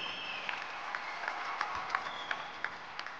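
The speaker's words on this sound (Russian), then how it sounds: "ваши аплодисменты обоим боксерам" Boxing audience applauding both fighters after an 86 kg bout at an IBA Champions' Night, a steady distant clapping wash with faint individual claps.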